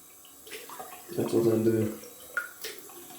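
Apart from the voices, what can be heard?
water running from tap while rinsing out shaving balm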